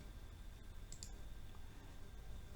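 Two quick, crisp mouse clicks while confirming OK in design software, faint and isolated against a low steady background hum.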